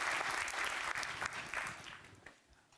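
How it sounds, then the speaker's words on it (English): Audience applause at a Python deep learning conference talk, a steady dense wash of many hands clapping that fades toward the end, moderately distant with no voices. "give a big applause right now"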